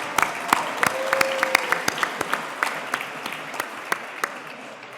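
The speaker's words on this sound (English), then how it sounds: "so please give him a round of applause" An audience at a police reserve foundation awards evening applauds Councilman John Lee, with scattered individual claps forming a moderate, steady round of applause that lasts several seconds, accompanied by a brief tonal note partway through.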